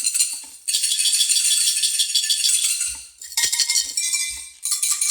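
Two tuned shakers pitched an octave apart rattle together in steady bright bursts, pausing briefly midway before resuming, close and fairly loud with no voices.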